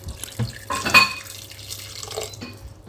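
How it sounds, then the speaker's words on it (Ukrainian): Water poured into a multicooker holding stewing chicken thighs, a short splashing pour with a sharper burst near the start, then a softer trickle. No talking. "А тут треба долити водички."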